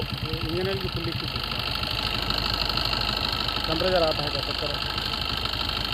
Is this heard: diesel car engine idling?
yes